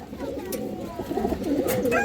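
Pigeons, including a female silver pigeon, coo at a pigeon farm, a soft steady murmuring that runs under the whole stretch with a few brief chirps, fairly close.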